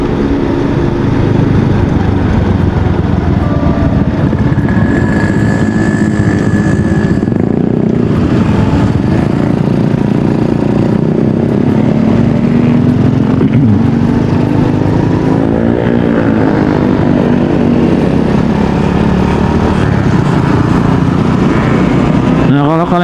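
A motorcycle ridden at night, its steady engine drone running continuously with gentle rises in pitch as it accelerates, close and loud, with a faint passing whine partway through.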